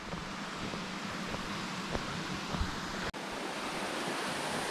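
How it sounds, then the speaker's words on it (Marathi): Siddhagad waterfall on a Murbad ghat trail: a steady, broad rushing roar of falling water that fills the whole moment, with a faint wind-like hiss and a brief dropout near the end, no voices. "तर समोर सिद्धगड धबधबा."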